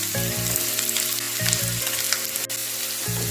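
Onions frying in very hot oil in a wok over high flame, a loud continuous sizzle heard close, with background music and no speech.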